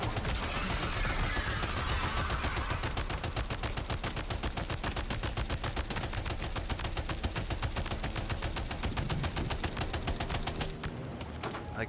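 Rapid sustained machine-gun fire from the video game Death Stranding 2 is aimed at a creature, a dense loud stream of shots that cuts off near the end.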